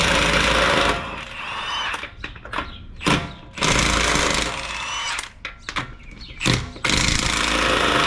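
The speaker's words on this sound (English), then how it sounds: "let's remove the lug nuts." An impact wrench removes 22mm lug nuts from a Honda front wheel, loud rattling bursts of hammering that start and stop several times, with clanks and softer handling noises in the pauses.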